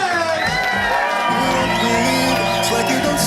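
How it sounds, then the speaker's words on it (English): Wedding guests cheer, whoop and shout for Mr. and Mrs. Paul and Julia Smith, a loud, dense crowd roar filling the room with overlapping voices throughout. "let's stand, let's applaud, let's scream and show some love for Mr. and Mrs. Paul and Julia Smith"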